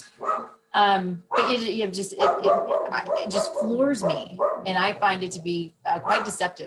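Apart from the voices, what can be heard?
dogs barking at the door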